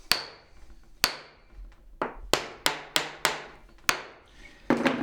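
A rod tapped against clamped metal printing type while dressing it by hand, sharp wooden-metal knocks in an irregular series of about ten strikes, close and loud with ringing decay.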